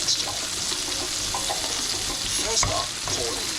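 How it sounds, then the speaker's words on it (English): Scrambled eggs whisked with butter and milk and stirred over high heat in a non-stick frying pan, a constant close sizzle with scraping stirs and occasional clatters of the utensil. "whisking hard, then stirring on a high heat in a non-stick frying pan"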